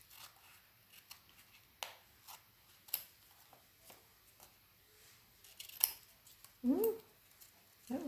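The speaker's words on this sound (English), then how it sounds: "that's what I'm just going to cut close to the edge" Scissors snip out squares of packaging tape paper ephemera in soft, intermittent close cuts, quiet clicks and rustles spaced irregularly, with a brief louder rustle near the end.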